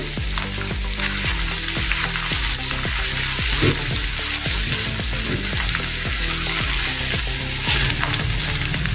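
Grated ginger and garlic frying hard in a pan of hot oil for cauliflower korma, a loud continuous sizzle with steady stirring scrapes throughout.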